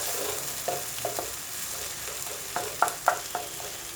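Onions and spices frying in a pan for egg masala, a soft steady sizzle with scattered spatula scrapes and light taps clustered toward the end, fairly quiet and close.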